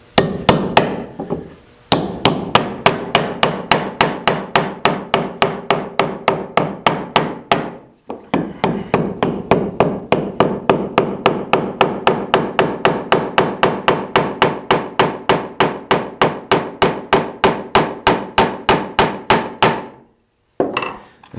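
Cut nails are clinched with a hand hammer on a woodworking bench: long runs of sharp, rapid, evenly spaced metallic blows, loud and close, broken by a few short pauses.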